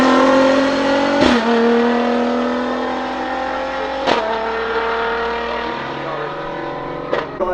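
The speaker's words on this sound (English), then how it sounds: "Driving the Toyota Corolla up the hill at the moment" A Toyota Corolla touring car climbs the hill at the Goodwood Festival of Speed 2024, its engine howling loud and close through rising revs, with three sharp gear shifts breaking the climbing tone.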